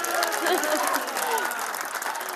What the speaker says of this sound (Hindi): एक बार उत्साह दिखा तो दीजिए आप लोगों का जोरदार तालियों के साथ